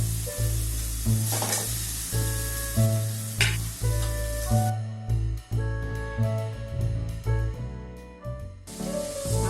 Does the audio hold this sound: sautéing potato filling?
yes